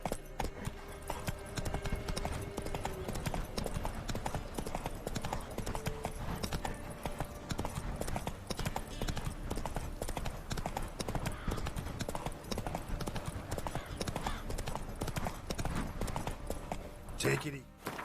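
Rhythmic hoofbeats of a horse galloping in the video game The Witcher 3 run steadily throughout, close and continuous with no break.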